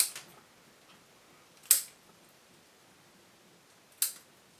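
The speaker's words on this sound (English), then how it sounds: "They're dead roots on the oldest part of the plant, so we'll snip those," Scissors snip dead roots from the oldest part of an orchid in the Oncidium alliance during repotting, giving two crisp, sharp cuts a couple of seconds apart, close and clear against a quiet room with no talking.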